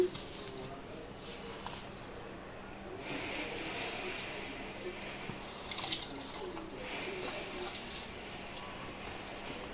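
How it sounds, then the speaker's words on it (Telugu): Swarna masuri rice pours into a pot of chicken pulao with a soft, continuous sandy patter and hiss, close by, while a person talks over it. "ఇదిగోండి బియ్యం వేసేస్తున్నా."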